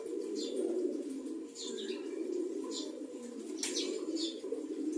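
Pet pigeons coo continuously in a low, rolling murmur, close and steady, with several brief sharp chirps rising above it.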